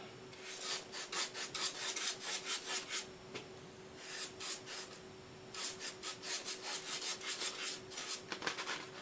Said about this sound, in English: just take your finger and kind of smudge it